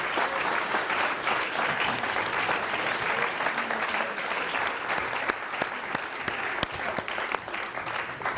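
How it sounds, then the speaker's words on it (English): Dense, sustained clapping from a graduation ceremony audience for a school tutor group, a steady roar of many hands with a few sharper claps standing out, continuing evenly without voices. "Joe's tutor group, big round of applause,"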